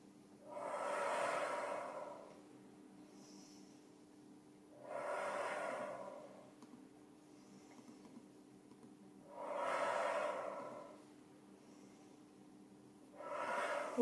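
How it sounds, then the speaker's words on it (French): Slow, deliberate breaths taken in through the nose and let out through the mouth during a guided exercise session, four soft, regular airy swells spaced a few seconds apart, close and alone. "Inspirez avec le nez, on expire avec la bouche."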